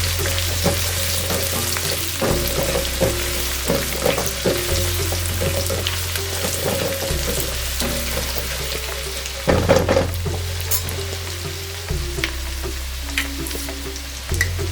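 Finely chopped onions and small shallots fry in a pan with a steady crackling sizzle, punctuated by repeated spoon scrapes and knocks against the metal, close and loud, with a low steady hum underneath and no speech.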